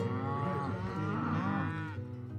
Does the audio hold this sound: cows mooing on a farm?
yes